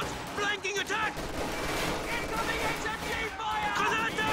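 A Maxim machine gun garrisoned in a building fires in a Company of Heroes 2 match, with bursts of gunfire and battle noise heard under continuous commentary from a caster.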